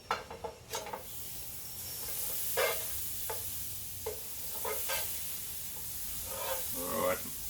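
Butter sizzles in a hot pan for a cheesy breakfast sandwich, a soft continuous hiss with several bursts of scraping and clatter, close and fairly quiet.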